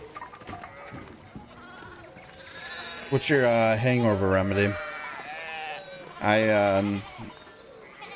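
Sheep in the video game Pentiment bleat in two loud, drawn-out calls partway through, over a game soundtrack while a person talks casually throughout.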